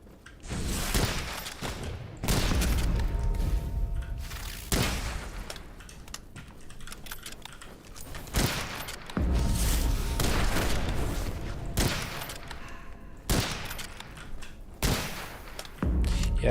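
Repeated bursts of gunfire from a weapon in the video game Witchfire, with several loud, sharp volleys spaced a few seconds apart and quieter clatter between them.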